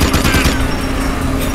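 Sustained gunfire in the PlayStation 3 game Jak 2, a loud dense rattle of rapid shots over a steady hum, strongest at the start then continuing slightly softer.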